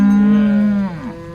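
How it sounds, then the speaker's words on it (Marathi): A Holstein Friesian cow at a cattle market gives a single loud, close moo, a long steady low call that bends and fades out near the end. "ही एचएफ मधील गाय आपण कव्हर करणार आहोत"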